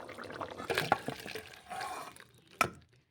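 Tangra fish curry is ladled from a pan into a bowl: wet sloshing and liquid pouring with a few scraping clinks of a utensil, ending in one sharper knock before quiet.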